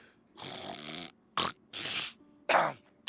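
A person imitates snoring with a run of drawn-out, rasping breaths alternating with short snorting gasps, close and fairly quiet, with no other voices.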